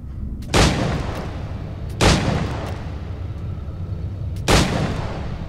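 Three loud, separate gunshot booms with long decaying tails from Assassin's Creed IV: Black Flag, spaced roughly two seconds apart over a steady low game rumble.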